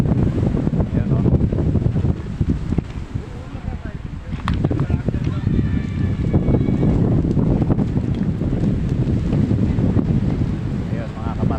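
Steady wind and water wash with a low boat engine drone, people talking over it, outdoors by the sea at Lobo, Batangas, Philippines, where many boats are moored.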